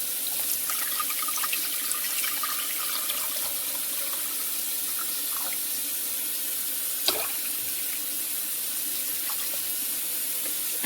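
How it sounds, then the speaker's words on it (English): Tap water runs steadily into a pan holding carrots, a constant close hiss with faint splashes and a small clink, and no one talks. "I'm going to go ahead and put this in the pan and add water"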